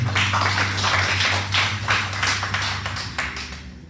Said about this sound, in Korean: 우리 다스리는 하나님께 영광의 박수 올려드리겠습니다.